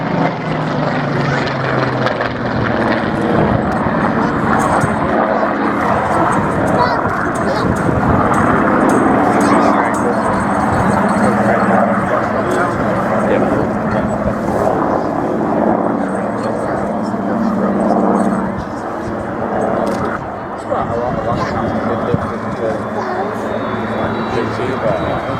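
An early Supermarine Spitfire flies at the Wings and Wheels airshow at Dunsfold, its propeller engine droning steadily and loudly overhead for a long pass, with crowd chatter and announcer talk underneath.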